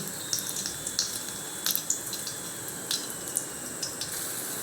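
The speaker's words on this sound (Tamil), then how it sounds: "இப்போ இந்த வடிகட்டின தண்ணியை ஊற்றிடலாங்க" Strained water is poured into a pan of tomato jam with cashews, raisins and cardamom, giving a soft splashing trickle with scattered light drips and ticks under a quiet, steady background.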